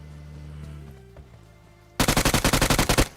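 Rapid automatic gunfire in a battle royale video game: after a quiet low hum, a loud burst of about a dozen evenly spaced shots erupts in the second half, close and dominant with no talking.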